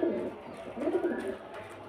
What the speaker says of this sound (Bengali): চলুন আরও কিছু ভালো পায়রা দেখাই।